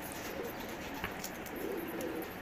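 Fancy domestic pigeons coo softly at a home loft, a few low murmuring calls over quiet background noise.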